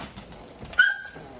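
A three-month-old Cane Corso puppy with freshly cropped ears lets out a single high, thin whimper close by, rising then fading over about half a second against quiet room noise.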